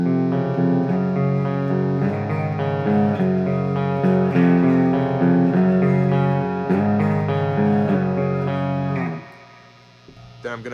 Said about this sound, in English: but here, I'll turn on the reverb too.